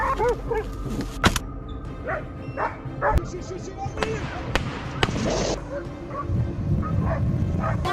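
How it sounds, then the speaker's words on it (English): Hunting dogs bark at wild hogs in the brush, sharp yips and barks scattered through the scene alongside other rustling and thumping noises. "The dogs are trained to surround and hold the hogs, preventing them from escaping into the brush."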